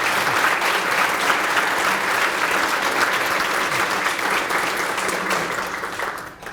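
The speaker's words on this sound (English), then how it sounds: "that's worth a round of applause for our police department" Sustained audience applause at a mayor's business appreciation breakfast, honoring the police department: dense, steady clapping from a room full of people that holds for several seconds, then begins to fade at the end.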